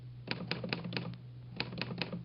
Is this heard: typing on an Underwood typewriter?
yes